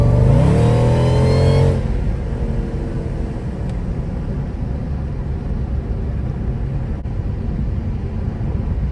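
A Mercedes E55 AMG accelerates hard on the street after maintenance and modifications, a loud engine roar that swells briefly then settles into a steady, heavy drone heard close up, with no talking.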